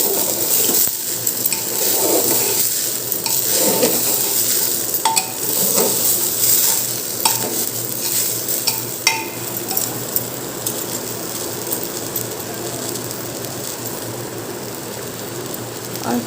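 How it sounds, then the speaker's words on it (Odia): A spoon stirs sweet khichdi with plantain and roasted peanuts in a metal pan, steady scraping and clinking over a soft sizzle, with occasional sharper knocks. "ତାକୁ ଭଲ ଭାବେ ଗୋଳେଇ ଦେବା।"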